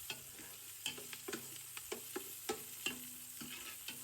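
Onion sautéing in a pan with tomato, steady low sizzle broken by repeated clinks and scrapes of a spatula stirring, close and moderately loud with no talking.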